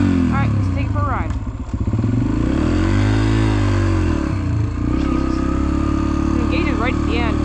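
A 250 dirt bike engine running loud and close throughout a ride, with a droning hum that rises and falls as the throttle changes, and voices talking over it.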